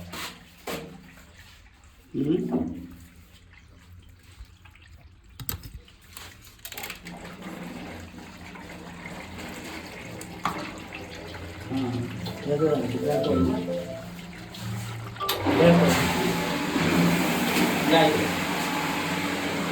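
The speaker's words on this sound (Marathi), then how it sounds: "इकडनं पाणी जाणार बाहेर" Water gushes from a filter during backwash, a rushing flow building to a louder steady stream in the last seconds, with someone talking nearby.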